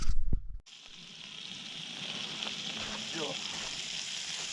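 Sausage frying on a camping stove without cooking oil, a steady broad sizzle running throughout at moderate level after a short louder knock at the start, with faint background sounds.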